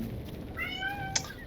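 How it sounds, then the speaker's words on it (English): A pet cat gives a single drawn-out meow in the background of a quiet room, faint and somewhat distant, followed by a brief click. "You might hear my cat in the back."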